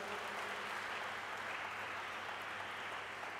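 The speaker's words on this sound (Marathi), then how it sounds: "सो राज्यस्तरीय ह्यांच्यासाठी पुन्हा एक वेळ जोरदार टाळ्या वाजवूया." Students and guests at a certificate award ceremony applaud state-level winners, a faint, even roar of clapping heard from a distance that holds steady throughout.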